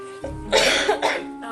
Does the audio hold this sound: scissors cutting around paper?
no